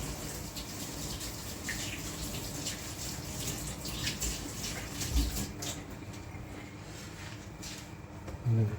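Tap water runs steadily into a sink to rinse dyed yarn, a soft continuous splashing that eases off near the end, with no voices.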